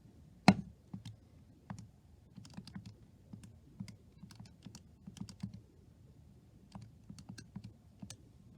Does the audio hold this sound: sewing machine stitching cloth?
no